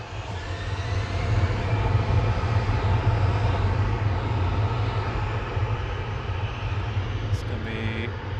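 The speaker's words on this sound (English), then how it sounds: "Got the Brussels A320 Neo." A Brussels Airlines Airbus A320neo at Manchester Airport gives a steady, loud jet engine rumble with a broad roar that holds throughout, while people talk over it.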